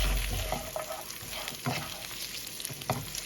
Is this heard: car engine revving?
no